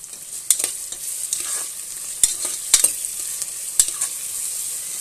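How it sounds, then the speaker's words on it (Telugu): Onion pieces salted and frying in a pan for a chicken curry, a steady close sizzle broken by several sharp scraping stirs of the spoon, with no talking. "కొంచెం కలర్ వచ్చే వరకు వేయించుకోవాలి।"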